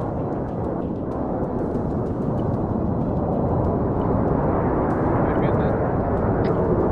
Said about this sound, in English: Enemy aircraft.